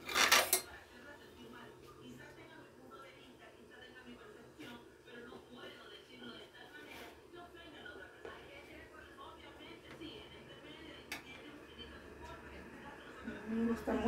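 Utensils cut into a savory corn cake, with soft metallic clinks and scrapes against a plate at moderate distance beneath someone talking throughout.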